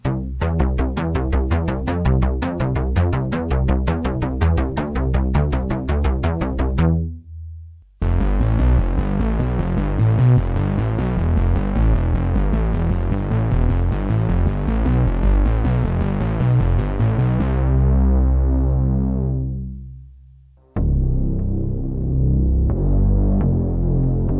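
Deep, rich synthwave synthesizer bass preset tones in long sustained notes, with a brief gap midway and a pitch drop near the end, thick and buzzy without any voices.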